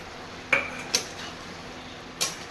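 A spoon stirs young jackfruit curry in a metal pan. Three sharp metallic clinks ring out against the pan over a faint background hum.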